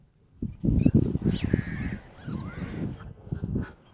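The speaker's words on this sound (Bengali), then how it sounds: "কাক ডাকছে পাখি ডাকছে নদীর গর্জন শোনাচ্ছে" Crows caw repeatedly by a river at a dam in Rajshahi late at night, several harsh calls close by in quick succession over a low, steady rumble.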